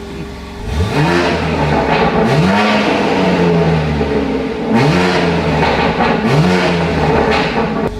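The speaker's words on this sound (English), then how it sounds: "these BMWs just don't sound very good" BMW car fitted with a Scorpion exhaust, revved repeatedly in loud rising and falling bursts, about four sharp throttle blips close by over a steady idle rumble, with no talking.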